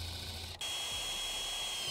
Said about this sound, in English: I'm gonna drill a hole there